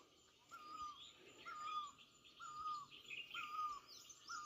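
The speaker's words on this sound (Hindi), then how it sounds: "चिड़ियाओं की आवाज़ सुनो" Birds chirp softly over farm fields in the mountains, a repeated short whistled call every second or so with fainter twittering higher up, distant and calm.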